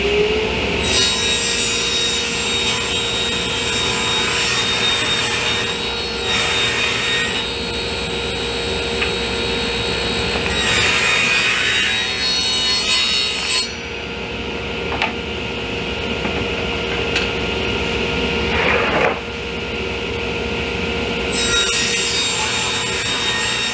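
A power saw cuts plywood strips for table legs, a loud continuous whining drone with shifting pitch as the blade works through the wood, close up with no speech.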